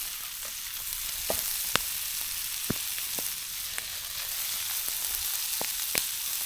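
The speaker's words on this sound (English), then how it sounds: "I put them in a frying pan with a bit of butter flavor, cooking oil in the frying pan, and let her go." Food frying in a pan with butter-flavor cooking oil over an outdoor fire gives a constant bright hiss with scattered sharp pops and crackles, steady and unbroken, no voices.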